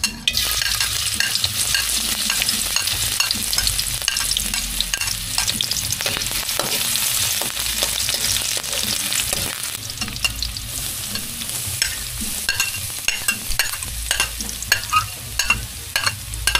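Onion fries in hot oil for chao fan, a loud continuous sizzle with frequent close stirring clatters and scrapes throughout, no voices.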